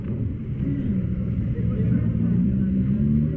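An MV Agusta Veloce motorcycle engine rumbles on a test ride, a loud, low, steady exhaust drone mixed with wind buffeting, with a voice talking over it.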